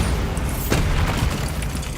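A Bombarda spell blast in Hogwarts Legacy, a short sharp boom near the middle set against continuous game background noise.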